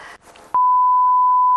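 A loud, steady censorship bleep on a Tunisian TV channel holds for about a second after a burst of speech, then a second bleep begins right at the end.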